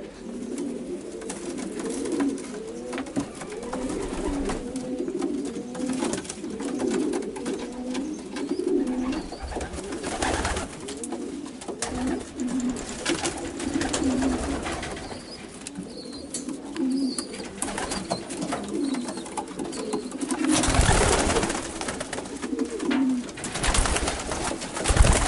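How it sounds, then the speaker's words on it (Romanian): Young racing pigeons coo continuously in a loft in Bucharest, a dense overlapping chorus of soft throaty warbling calls from several birds nearby, with occasional rustles and flaps and no talk. "Să le dai drumul la porumbei după ce a căzut câte o pană."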